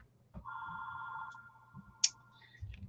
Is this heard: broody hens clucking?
no